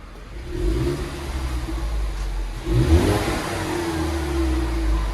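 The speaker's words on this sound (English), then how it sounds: "Put it in park and give it gas." A 2018 Ford Mustang EcoBoost turbo four-cylinder with dual exhaust revs while parked, its low engine drone surging in two loud pushes of throttle over a steady idle, close by.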